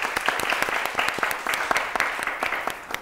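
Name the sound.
audience clapping after a recited poem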